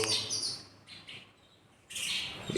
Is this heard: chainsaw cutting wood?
no